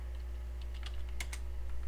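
Keys on a computer keyboard tap softly in a short, uneven burst as a search is typed into a web browser, faint over a steady low hum, with no voices.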